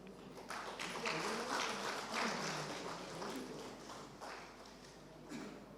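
Audience applause greets guests invited onto the stage at an INFOCOM 2022 startup branding workshop, a moderate, continuous patter of many hands clapping, heard from a distance and fairly faint, swelling slightly in the middle.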